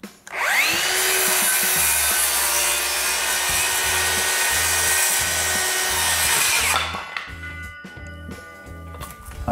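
A DeWalt DCS570B cordless brushless circular saw rips through wood with a loud, sustained whine for about six seconds, then spins down, leaving intermittent low rumbles and clatter.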